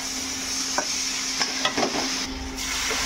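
Spice paste with a little sugar and garam masala powder is stir-fried in a pan, a continuous moderate sizzle broken by several short scraping strokes of a spoon, close by, with no talking.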